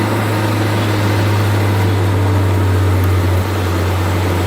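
A Honda Accord Maestro with an F22B1 VTEC engine runs at a steady, loud drone with a strong low hum that holds throughout, with no talking over it.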